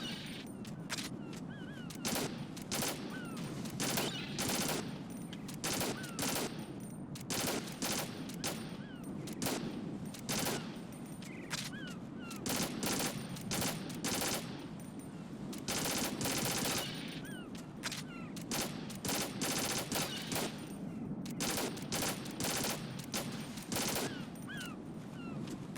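An assault rifle in Metal Gear Solid 2 fires in repeated short, loud bursts for about 25 seconds, a steady, tightly packed rhythm of close gunfire with no voices.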